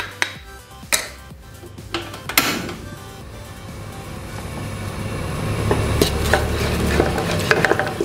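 Ground pepper and coriander sautéing in hot oil for beef ribs, a steady low sizzle with repeated sharp scrapes and clinks of a spatula stirring in the pan, growing slightly louder toward the end.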